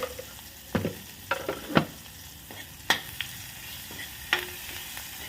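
Green chillies and salt fry in hot oil in a kadhai, a low crackling sizzle broken by sharp clinks and scrapes of a stirring spoon at irregular moments, close and moderately quiet, with no voices.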